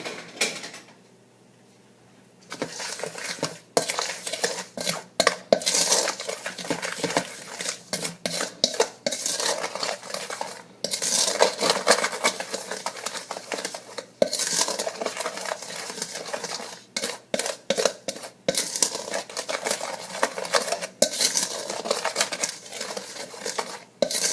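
Eggs whisked into apple flamuse batter in a bowl, a fast, continuous clatter of a utensil against the bowl that runs for a long stretch, close and loud, after a brief quiet start.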